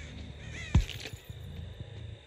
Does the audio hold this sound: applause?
no